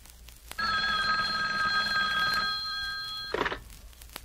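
A hotline phone in a Batman motion comic gives a single loud, continuous electric bell ring of nearly three seconds, followed by a short clattering rattle.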